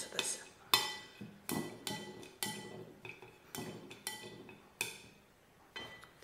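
A chopstick repeatedly clinks against the side of a bowl while mixing a paprika marinade for spatchcocked chicken, a series of sharp, bright taps in a loose, steady rhythm with short ringing decays and near-silent gaps between strokes.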